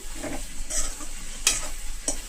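Curry ingredients being fried and stirred in a pan: a soft, steady sizzle broken by three quick spoon scrapes, close by and without talk.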